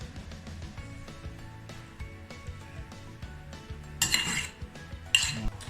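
A metal spoon scrapes cooked potato in a dish while making pommes de terre Macaire, producing two short clinking, scraping bursts near the end over a steady bed of soft background music.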